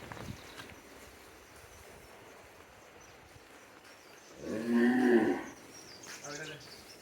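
A cow gives one loud, drawn-out moo midway through, inside a cattle shed on a farm raising cattle for sale. Quieter stretches of low background noise come before and after.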